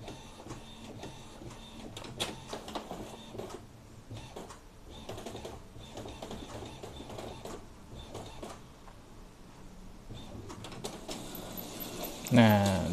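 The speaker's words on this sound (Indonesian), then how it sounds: "dia baru mau keluar, kedengeran prosesnya, kertas keluar ya" An Epson L15160 inkjet printer with two years of use and about 400,000 prints runs through a print job with close, busy whirring and clicking, then feeds the paper out with a louder mechanical rush. A person talks over it.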